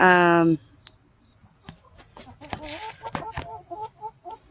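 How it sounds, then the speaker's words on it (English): A short, strained rooster crow opens, then scattered clucks and chirps follow from nearby fowl over faint insect noise. "I swear I think that that's a rooster too, because he's trying to crow"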